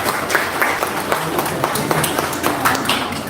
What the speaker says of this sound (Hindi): मैं रिक्वेस्ट करता हूँ डॉक्टर पवन गुप्ता के लिए तालियों से स्वागत किया जाए।